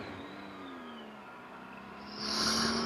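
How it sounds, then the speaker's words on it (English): A motorbike with its stock exhaust revs, the engine note drifting down and then rising into a louder, harsher rev near the end, heard close with no talking. "Childish bloody rev bombs at my age"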